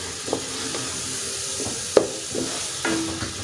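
Tomato paste and chicken mince with liver pieces frying in a pan, a steady close sizzle broken by a few sharp spoon scrapes and taps as it is stirred, no talking.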